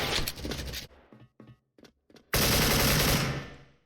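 AK74 rifle fire in a video game, heard as a loud automatic burst, a few sparse clicks and shots, then a second long, close burst that fades out.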